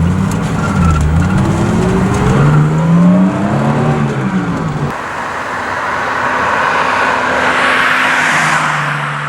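A BMW E9 coupe with a 2.8-liter M30 inline-6 in a Need for Speed game, revving up and down with a rising and falling engine note, then settling into a steadier drone as it drives on.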